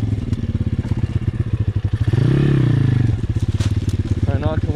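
Close, loud engine of a custom Apollo RFZ pit bike with a swapped 150cc motor being ridden. It makes a rapid pulsing thump with a short revving surge in the middle, and a rider's voice comes through over it.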